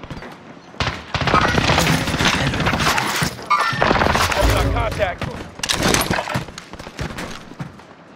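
Loud gunfire in the video game Call of Duty: Modern Warfare, in a Rebirth match, comes in dense rapid bursts separated by short pauses, with heavy impacts and shattering debris and voices talking over the action.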